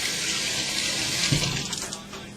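Tap water runs steadily into a bowl as it is rinsed out in a kitchen, a close, full rushing splash that holds level and eases off slightly at the end.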